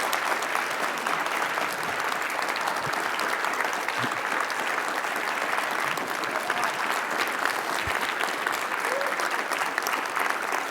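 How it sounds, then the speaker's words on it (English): Sustained audience applause filling the room at a live conference event, steady and even clapping from a large crowd for about ten seconds with no pause. "this would be an appropriate time to applaud for them"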